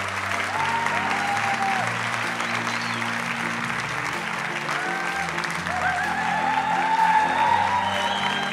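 Loud, sustained audience applause fills the whole stretch at an evening event in Lyon, dense, steady clapping from a large crowd with no break.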